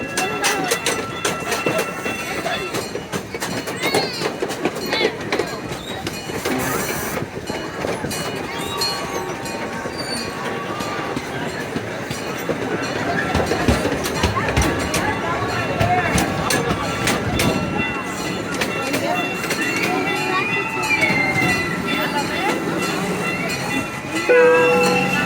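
A tour train on the Kemah Boardwalk runs along with rattling wheels and clickety-clack, its rumble growing midway, while a recorded announcer talks over the ride.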